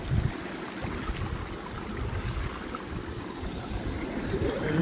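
Water pouring out of an open valve on a farm irrigation pipeline, a steady broadband rush and splash that holds at an even level throughout, fairly close, with no voices.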